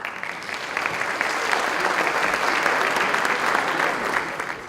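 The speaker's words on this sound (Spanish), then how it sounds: "Le damos un fuerte aplauso de bienvenida." Audience applause welcoming a speaker at a petroleum industry event, a steady, dense wash of clapping that swells slightly mid-way and holds, with no voices over it.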